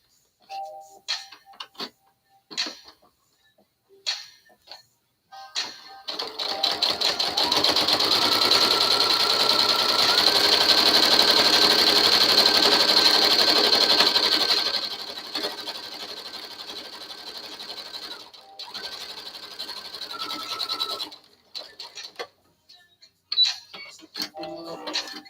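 An embroidery machine stitches names onto a strap with a fast, even mechanical chatter that runs steadily for several seconds, shifts pace briefly, then stops amid scattered clicks and handling noises.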